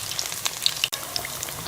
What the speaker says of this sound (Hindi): हमारे चिकन पकौड़ा जो है वो फ्राई हो गया है